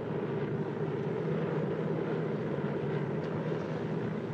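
Engines of a Douglas DC-3 airplane in flight drone as a steady, even roar with no breaks, heard from inside the aircraft at moderate loudness.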